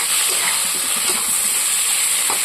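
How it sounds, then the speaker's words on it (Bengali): Chopped tomatoes fry in a pan for a fish curry while a spatula presses them down; a steady, close, dense sizzle and hiss runs throughout, with faint soft scraping ticks and no voices. "তো টমেটোগুলো ভাজা হয়ে গেছে, আমি একটু এটাকে চেপে চেপে দিচ্ছি যাতে আরও সুন্দর ভাজা হয়"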